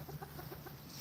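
Backyard chickens cluck softly in a steady, faint series of short notes, with a low hum running underneath throughout.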